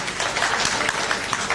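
Steady applause sweeps through the crowd at an Islamic institute fundraising event after a donation is announced, a dense patter of many hands clapping throughout.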